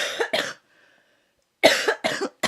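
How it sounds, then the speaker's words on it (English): A woman coughs in several harsh, close bursts: two quick coughs, a short silent pause, then three more in a row, with a lingering cough that has lasted weeks. "my cough even doesn't even stop from last week"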